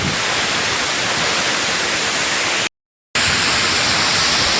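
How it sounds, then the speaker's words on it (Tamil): Agaya Gangai waterfall at Kolli Hills roars as a loud, dense, unbroken rush of falling water close by, cut by one brief gap of silence. "நீர் நீர்வீழ்ச்சி கிட்ட வந்துட்டோம் பார்க்கவே ரொம்ப அருமையாக இருக்குது"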